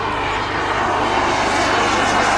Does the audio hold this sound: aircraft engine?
yes